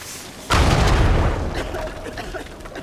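A loud, sudden explosion in the video game Uncharted 4 bursts in and rolls into a long rumbling decay. Debris and crackling follow, and faint voices sound underneath.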